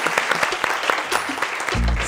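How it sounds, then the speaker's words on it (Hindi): Studio audience at a talk show applauds the production team with dense, lively clapping that is loud and near, giving way to a low steady tone near the end. "सबसे पहले उनके लिए मैं तालियां बजवाना चाहूँगा"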